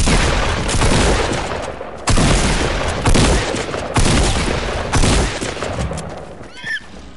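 Loud, repeated bursts of gunfire in the video game Fortnite come in clustered volleys every second or so, with a brief chirping effect near the end.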